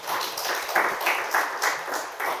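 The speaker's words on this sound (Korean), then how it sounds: "자, 박수 한번 하세요." Church congregation clapping at a Sunday worship service, a brief, moderately faint patter of many hands in a rapid, somewhat irregular rhythm that carries on for a couple of seconds.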